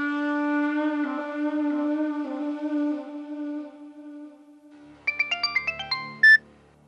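A telephone ringtone rings steadily and loudly with a sustained tonal melody, fades, then a short burst of quick electronic beeps and a final tone follow, with no talking.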